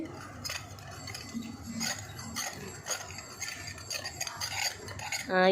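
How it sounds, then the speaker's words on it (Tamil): Spoon stirring carrot milk with sugar in a cup or pan, a steady scraping swirl of soft repeated strokes with light clinks, close and fairly quiet, ending in a brief sharper knock. "அப்புறம் அப்படியே எடுத்து நல்லா மிக்ஸ் பண்ணு சக்கரை கரையிலல்ல கட்டு"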